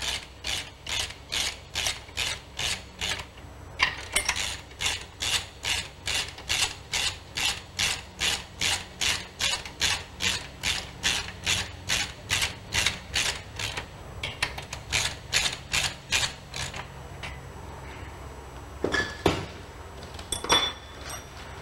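Ratchet wrench tightening cylinder head nuts on a Corvair engine: a long run of fast, even clicking strokes, close and steady, slowing into a few separate clicks and metal knocks near the end, with no talking.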